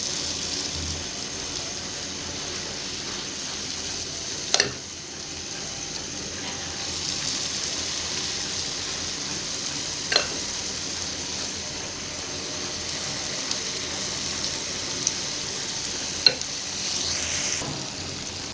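Sweet gulgule fritters fry in hot oil over a medium flame, giving a steady, even sizzle with a few isolated clicks and taps scattered through it. No one speaks.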